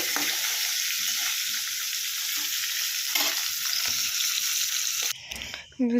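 Fish sizzles steadily in hot oil in a pan, a continuous loud frying hiss with a few soft scrapes as pieces are turned, ending in a burst of clatter and shifting.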